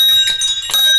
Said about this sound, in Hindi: यहीं से घंटी है, आपका सिर के ऊपर घंटी